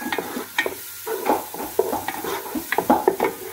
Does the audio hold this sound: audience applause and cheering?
no